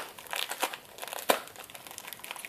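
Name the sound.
cutting open a blister pack with scissors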